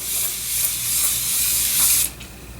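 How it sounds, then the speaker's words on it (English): A fine, steady hiss of a facial mist spray bottle spraying for about two seconds, then cutting off, close and fairly soft. "It's a nice spray. Let me show you."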